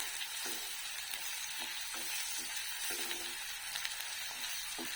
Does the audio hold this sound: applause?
no